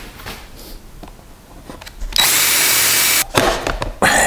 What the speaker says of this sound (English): So I'm going to drill a hole there and then drill a hole there.